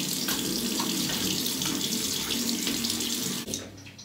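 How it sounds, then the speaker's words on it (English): Tap water running steadily into a sink while rinsing off after a shave, a close, loud, continuous splashing rush that cuts off abruptly near the end, with no talking. "Rinse off."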